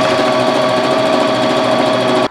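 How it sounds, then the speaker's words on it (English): An Elna 450 sewing machine top stitching a cushion at high speed, a loud, continuous close-up whir and rapid needle chatter that stops abruptly at the end. "So now I'm gonna top stitch."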